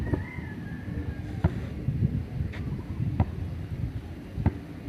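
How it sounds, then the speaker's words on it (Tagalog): Strong outdoor wind blowing at a seaside-like spot during a shooting game, a steady low rumble and buffeting against the microphone with a few sharp knocks. "Ang lakas ng hangin."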